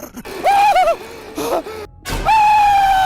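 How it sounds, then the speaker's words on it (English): Shrek lets out distorted, high-pitched screams in short wavering bursts separated by gasps and brief gaps, loud and close. "Shrek screaming in such a high-pitched voice will forever be one of the funniest sounds I have ever heard"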